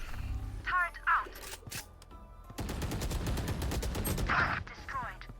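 A turret in a video game fires a long rapid burst of gunfire, dense evenly spaced shots lasting a couple of seconds, preceded by a few scattered electronic blips and game sounds.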